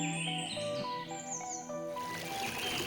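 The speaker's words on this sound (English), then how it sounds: "the sound of birds and rustling leaves accompany each step." Birds singing along a woodland trail in Chickasaw National Recreation Area, Oklahoma, several clear chirps and whistled phrases near and far, followed by a wash of background noise.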